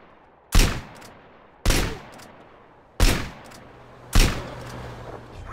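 A rifle fires in GTA San Andreas Definitive Edition: four loud, sharp single shots, evenly spaced about a second apart, each followed by a short echoing decay, with no voices.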